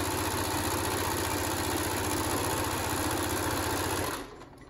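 Sewing machine stitching fabric strips onto the sides of a patriotic star quilt block made from precuts, a steady, close mechanical whir with a fast rhythmic needle beat that runs continuously and stops abruptly near the end.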